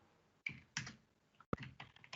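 Bursts of clicking keystrokes on a computer keyboard while a form is filled in on screen, coming in short uneven flurries separated by pauses, close and fairly quiet.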